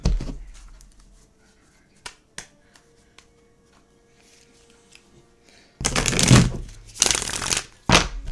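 Tarot cards being shuffled in several quick riffling bursts near the end, after a mostly quiet stretch with a few soft taps.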